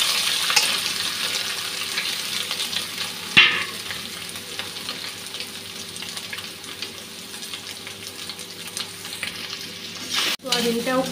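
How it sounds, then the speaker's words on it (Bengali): Squeezed and rinsed soybean chunks fry in hot oil with a constant loud sizzle and crackle, stirred now and then, including one sharp clatter near the start and a scrape near the end. "সোয়াবিনটা এখন ভেজে নেব"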